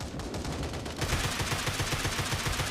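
Rapid gunfire in the mobile battle royale game Sausage Man, dense bursts of shots that get louder and more continuous after the first second, no talking.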